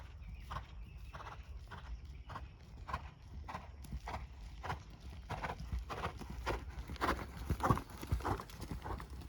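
A horse canters during a riding lesson, its hooves thudding in a regular three-beat rhythm on soft ground, faint and at a middle distance.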